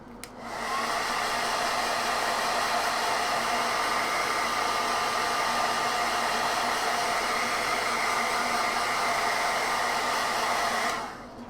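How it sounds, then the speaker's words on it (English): A hairdryer blows a steady, loud rush of air for about eleven seconds over freshly painted Knight Armiger miniature parts, switching on and off cleanly with no talk. "Okay, I'm going to hit this with a hairdryer and do exactly the same stage again."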